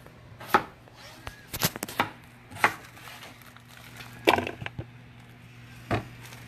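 A knife chops potatoes into cubes on a cutting board, giving about eight sharp, separate knocks at an uneven pace. The strokes sound close and loud over a low background hum.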